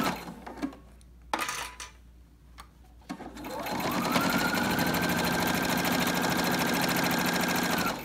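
A sewing machine stitches a Cricut Maker dust cover. A few clicks and taps come first, then the motor runs in a loud, steady whir for several seconds.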